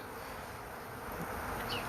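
Dense, steady buzzing of a bee swarm, close and continuous, heard while comb from an old dead-out hive is worked into the clustered bees.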